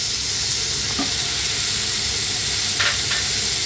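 Onion frying in hot oil in a pan gives a steady, loud, close sizzle and hiss, with a couple of faint clinks from a utensil and no voices.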